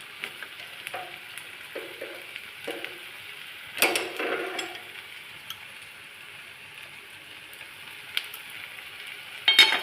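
Hot water poured into sizzling oil for a jackfruit curry gives short hissing bursts and a few sharp splutters over a low, quiet simmer. It stays fairly faint overall, with no talk.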